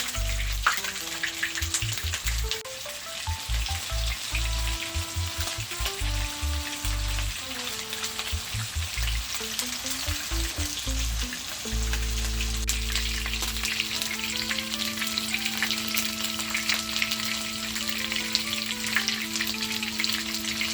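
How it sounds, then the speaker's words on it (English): King fish slices fry in a pot with a steady, continuous sizzle lasting the whole stretch, joined by a clear melodic tune of music playing over it. "we fry them on both sides"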